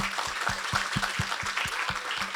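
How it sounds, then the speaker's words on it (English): An audience at a food and beverage career sharing session applauds, a clear, moderately loud patter of hand claps with some sharp, evenly spaced individual claps standing out. "please join me in offering them a loud round of applause"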